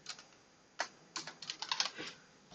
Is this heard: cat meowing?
no